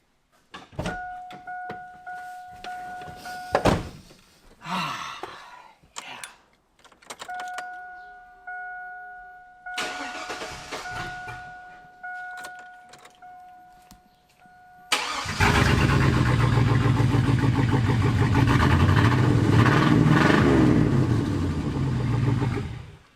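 A 24-year-old Chevrolet Silverado pickup engine, running rough on years-old gas, cranks and fails to catch a few times, then fires up and settles into a loud, steady, deep rumble with light revving.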